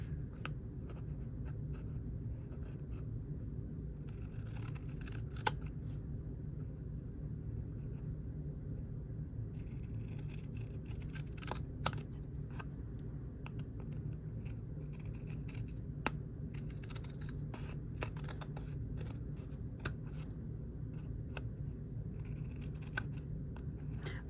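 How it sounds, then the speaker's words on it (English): Scissors trim a paper tag for a craft journal, producing faint, sporadic snips and scratchy cuts over a low steady room rumble. "We'll just keep trimming until there's no ticket left. Okay, or no tag left."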